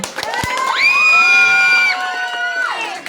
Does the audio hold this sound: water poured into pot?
no